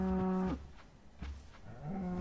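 A Minecraft cow gives two drawn-out moos, one at the start and one near the end, close and clear with a quiet gap between them and no talking.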